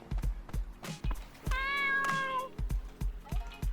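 A cartoon cat meows in the underwater video game Dave the Diver, one drawn-out, sliding meow in the middle, set among short percussive game sound effects.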